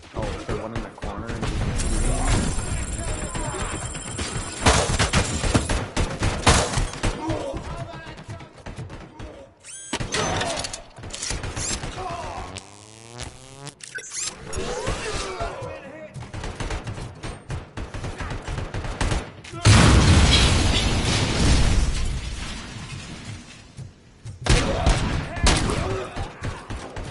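Heavy gunfire in the video game RoboCop: Rogue City arrives in intermittent bursts of rapid shots mixed with crashes and thuds, with quieter gaps between loud, close volleys.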